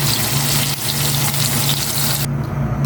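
Steady, dense sizzling of tilapia frying in hot oil, loud and close, with a low hum underneath; the crackle thins out near the end.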